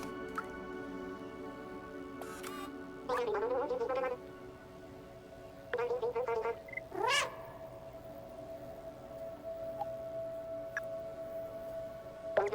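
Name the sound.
cats meowing in the video game Stray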